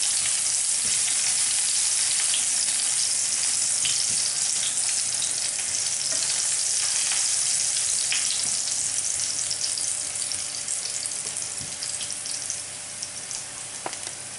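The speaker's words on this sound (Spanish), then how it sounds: "un poco de aceite para freír primero lo que es los ajos laminados" Sliced garlic frying in oil in a pan as the base for a salt cod Biscayne-style sauce, a dense continuous sizzle held close and loud for the whole stretch, no voices.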